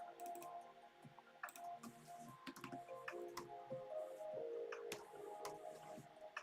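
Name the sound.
typing numbers on a computer keyboard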